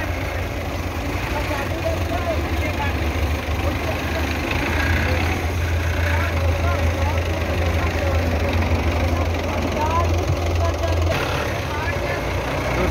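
Two Belarus tractor engines run hard while pulling a trolley out of a field, a loud steady diesel drone with a low rumbling throb throughout and voices talking over it.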